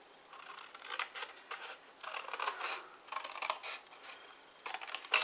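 Scissors cut through card stock for a block step card with a series of quiet, close snips in irregular bursts, without any talk.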